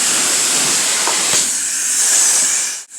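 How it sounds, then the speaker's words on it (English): A high-pressure rinse wand at a car wash blasts water in a loud, close, continuous hissing spray that cuts off abruptly just before the end. "Now, believe it or not, this is the high pressure rinse."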